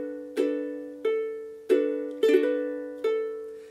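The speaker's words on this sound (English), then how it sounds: "So our D6th bars sound like this." Ukulele chord melody in D6, with five separate strums or plucked chords spaced about a second apart. Each one rings clearly and then decays, and no voice is heard.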